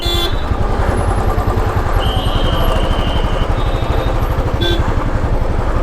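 Dense motorcycle traffic near Amritsar rumbles loudly and steadily at close range, engines droning together with scattered short horn toots cutting through the roar.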